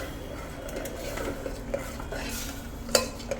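A spoon scrapes and clinks against a pressure cooker while salted mung beans and egg gravy are mixed, soft irregular stirring scrapes with a few sharper metallic taps, faint and close.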